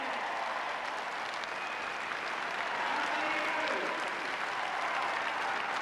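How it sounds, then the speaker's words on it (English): Sustained crowd applause fills the arena at the Crufts dog show, a dense, even roar of clapping lasting throughout with faint voices mixed in. "Tremendous applause."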